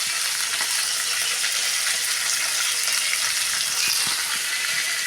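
Cumin seeds and garlic frying in a pan for a village-style coriander chutney, a steady close crackling sizzle running evenly throughout with no talk.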